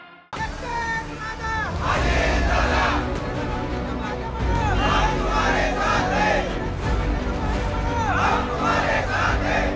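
Party workers in Katewadi village cheer loudly after Sunetra Pawar's Rajya Sabha nomination, a roaring crowd of voices rising and falling over nearly ten seconds, with shouts and slogans layered through the celebration.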